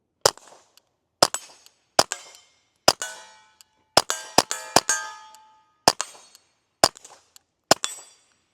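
A Ruger Mark IV 22/45 Lite pistol firing about a dozen sharp, snappy .22 shots in an uneven rhythm, some in quick pairs, each with a short ringing decay and no voices.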